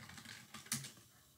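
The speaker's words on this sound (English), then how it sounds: "So if I was to type in my name" Soft, quick keystrokes tap on a computer keyboard in a short burst, faint and close, with no talking.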